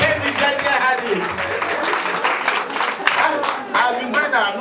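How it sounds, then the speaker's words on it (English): Crowd applause at the official launch of the Rida Restore women's product from Marvel Natural Products, steady clapping throughout mixed with voices and cheering from the room. "A round of applause."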